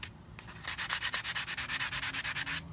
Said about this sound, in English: I take my sanding block. It's a vintage sanding block, and I just rub it a little bit and smooth it out.